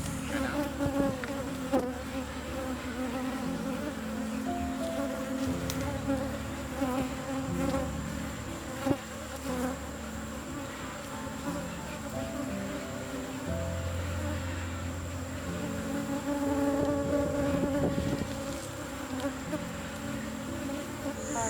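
Dense, continuous buzzing of a large colony of bees in a hive box in Guyana, steady and close, with individual insects droning in and out across the low hum.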